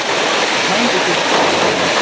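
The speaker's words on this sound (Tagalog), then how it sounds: "Umulan ngayon at hindi kami makapunta sa area ng aming malakbayin kasi malakas ang ulan." Heavy rain pouring down in a mountain area, forming a thick, unbroken hiss of falling water that stays loud and even throughout.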